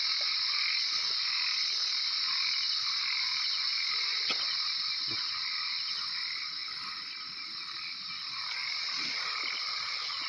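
Frogs croaking at night, likely large frogs in a rural Lao or Thai setting, a dense steady chorus of high trilling calls with a few nearer individual croaks breaking through.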